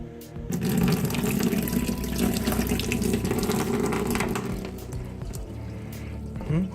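Water is poured for a colour film developing bath, a steady close rush and splash of flowing water that lasts several seconds before tapering off, with no talking.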